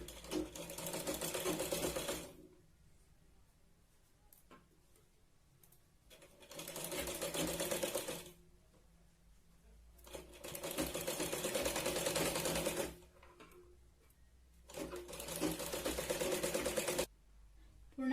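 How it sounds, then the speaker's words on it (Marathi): A sewing machine stitching a katori blouse runs in four bursts of rapid, even whirring, separated by quiet pauses, close and alone. "पूर्ण आपण शिलाई लावून घेतली"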